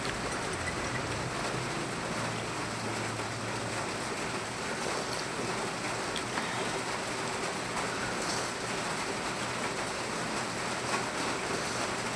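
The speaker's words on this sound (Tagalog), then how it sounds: "umuulan." Heavy rain falls steadily outdoors, a continuous dense hiss and patter with a low rumbling undertone, unchanging throughout.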